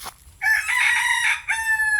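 A rooster crows once, loud and close, a long drawn-out call with no other sounds around it.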